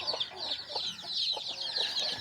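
Country chickens cluck near at hand in the early morning after their coop is opened, short repeated clucks over a bright chattering din of the flock.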